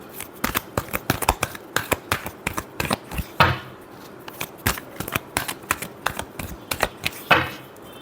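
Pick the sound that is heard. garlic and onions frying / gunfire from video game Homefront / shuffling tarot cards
shuffling tarot cards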